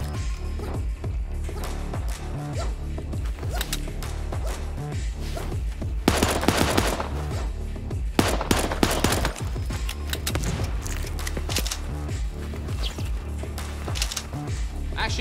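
Rapid pistol shots spammed in the Super Animal Royale video game, dense bursts of sharp cracks clustered around the middle of the stretch, mixed with game effects and a voice talking over it.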